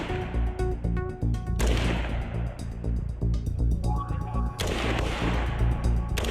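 Rapid loud gunfire from a military training exercise with precision weapon systems, sharp repeated shots and bursts in close succession over a dense rumbling background, near and continuous.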